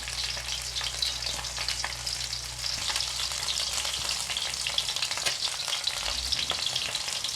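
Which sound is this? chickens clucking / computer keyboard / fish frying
fish frying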